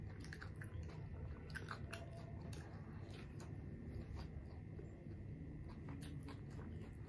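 Close, wet chewing and biting of spicy buffalo intestine curry cooked Zeme Naga style, steady mouth sounds running through the whole stretch with small crunchy clicks, no talking.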